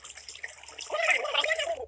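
Water rushes and splashes in the Kick The Buddy mobile game, starting thin and growing into a louder, bubbling gush during the second half of the short burst.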